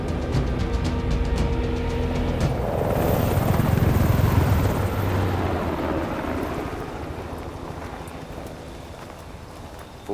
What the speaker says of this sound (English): Interesting that the chopper is disguised